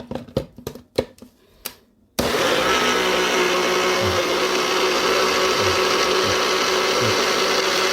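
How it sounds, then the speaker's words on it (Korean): Blender grinding apples and kiwi for juice: a few sharp mechanical clicks, a brief lull, then the motor roars on loud and continuous for the rest, with its pitch wavering slightly as the fruit breaks down. "사과는 완전히 갈고 완전히 갈아버려야지 그거는."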